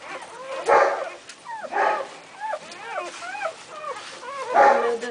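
A dog whimpers and yips repeatedly in short rising cries during a birth, close and fairly faint, with a few louder bursts of sound among the calls.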